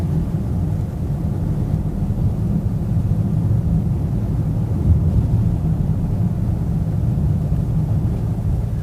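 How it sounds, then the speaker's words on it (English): Inside a Rolls-Royce Wraith on the move, the cabin holds only a soft, even, low rumble of road and engine noise that stays steady with no talking. "why don't you just listen to the silence? Listen to the sound of a Rolls-Royce."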